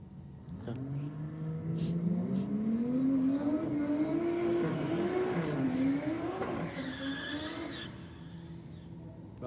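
A Holden Commodore VL race car with a roll cage accelerates at a circuit, its engine note climbing steadily and rising in pitch before a shift, heard at moderate distance with some tire noise.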